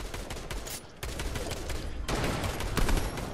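Rapid bursts of gunfire in the video game Fortnite crackle almost continuously, loud and close, with a short lull before the shooting picks up again.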